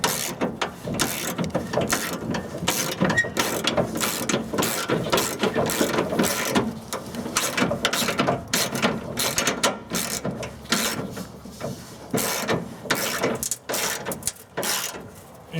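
A ratchet clicks rapidly and repeatedly while fuel pump bolts are tightened on a 1996 Ford F-250, coming in close, loud bursts of strokes with short pauses between them.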